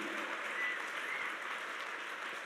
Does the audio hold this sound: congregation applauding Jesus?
yes